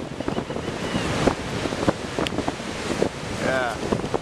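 Ocean surf and wind on a beach where people paddle out to surf, a steady rushing wash with buffeting wind across the microphone, close and loud throughout.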